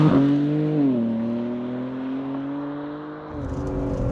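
BMW G80 M3 pulling away from the pits at Goodwood, its engine note steady and prominent with a gear change partway through, then rising again as it accelerates, no voices over it.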